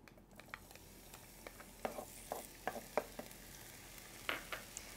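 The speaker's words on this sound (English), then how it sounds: "We're going to add a little bit of olive oil to our pan. And then some fresh minced garlic." Minced fresh garlic sizzles in olive oil in a pan over medium-high heat, giving a faint steady crackle broken by scattered louder pops and spits, with no voices.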